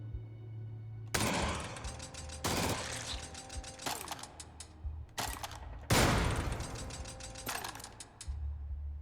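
A chain gun in the sci-fi shooter Jupiter Hell fires at a turret in several loud rattling bursts, each a few seconds apart, with mechanical clatter and a steady low hum between them.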